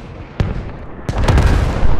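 Hell cannon artillery shells exploding in the Squad video game, Middle East Escalation mod: a sharp blast, a second heavier boom a moment later, then a rumbling roll of impacts and debris.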